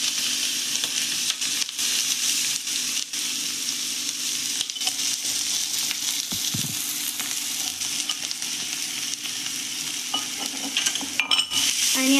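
Fenugreek and green chili thecha stirred into hot oil with turmeric, a steady loud sizzle with scraping stirs running throughout and a few sharper clatters near the end.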